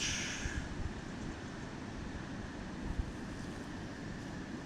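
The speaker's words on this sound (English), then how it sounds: "The waves is crashing on this rock." Ocean waves break against a rock on a windy shoreline, a continuous broad wash of surf and spray with gusty wind noise on the microphone, fairly faint.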